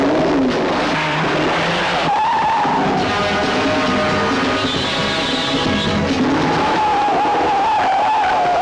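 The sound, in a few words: car skidding while driven on three wheels as a stunt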